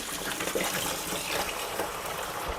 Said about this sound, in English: So we can just run some hot water into the bucket.